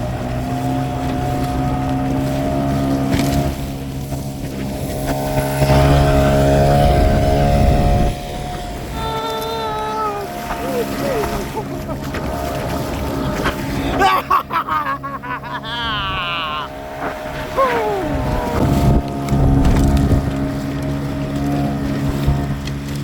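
A fishing kayak's outboard motor runs steadily at about half throttle during engine break-in, a loud constant drone with wind buffeting the microphone and some water noise.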